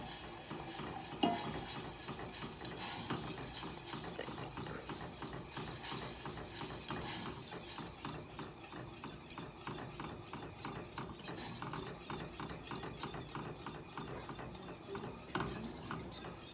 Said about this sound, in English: as I'm whisking it, it's thickening up already